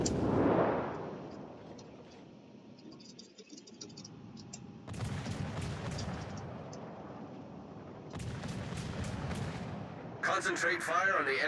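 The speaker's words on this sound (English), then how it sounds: "Concentrate fire on the enemy warship." Naval gunfire from warships in the game World of Warships booms in repeated heavy salvos, several broad blasts spread over the stretch, with faint voice chat and keyboard clicks in between.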